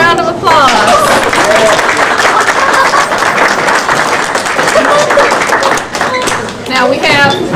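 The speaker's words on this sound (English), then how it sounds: "everybody give them a round of applause" Round of applause from an audience at a children's engineering and robot show, loud clapping with cheering and excited children's voices layered over it throughout.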